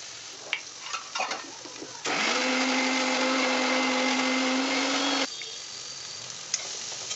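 A mixer grinder whirs at high speed, steady and loud, for about three seconds as it blends fried masala and coriander into a thick paste for mushroom curry, with quieter kitchen clinks before and after.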